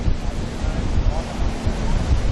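Strong wind buffets the microphone on a seaside pier, a loud, rumbling, gusty roar with surf noise beneath it for the whole moment.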